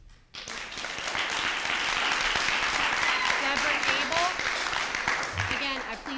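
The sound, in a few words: audience clapping at a school board meeting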